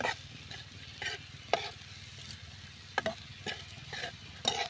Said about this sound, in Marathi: कोथिंबीर टाकून एक दोन मिनटं आपण फक्त परतून घेऊया